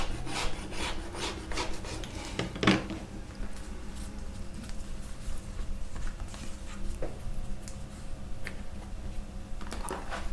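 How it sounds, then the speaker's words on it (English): Blade cutting and rasping away excess Texon board from the base of a handmade leather kiss-lock bag, a close, continuous scratchy scraping with a few sharper strokes, no talk. "Then proceed to cut out the excess Texon board from the base."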